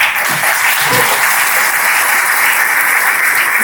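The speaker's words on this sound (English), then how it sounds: "So please, one final round of applause for our sponsors." A loud, continuous roar of crowd applause fills a keynote luncheon hall in San Antonio as the audience claps for sponsors, dense and sustained with a few faint voices underneath.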